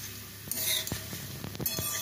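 Corn flakes fry in hot oil while being stirred, a crackling sizzle broken by several sharp clinks and scrapes of a utensil against the pan.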